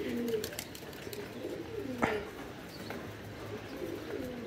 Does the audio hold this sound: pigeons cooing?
yes